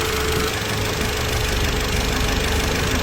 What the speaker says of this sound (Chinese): 就是发动机轻微的爆震